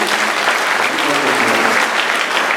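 A church congregation gives dense, steady applause to newly ordained Fr. Edward Nyandega at his first Holy Mass at St. Mary's Parish, Ongata Rongai, in a continuous loud roar of many hands.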